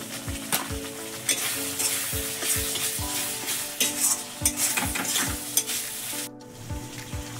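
Spice masala being sautéed in a pan, for a coconut-milk prawn malai curry with Kashmiri chilli powder and salt, sizzling steadily while a spatula stirs and scrapes in a repeated rhythm throughout, close and clear, with no voices.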